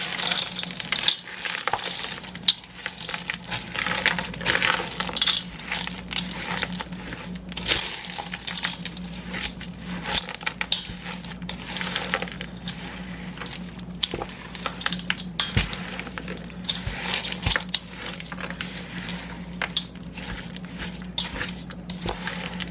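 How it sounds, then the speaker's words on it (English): Baking ingredients are mixed together in a bowl, the utensil scraping and clinking in quick, uneven strokes that continue steadily with small sharp taps, close up and with no talking. "I'm going to mix this together."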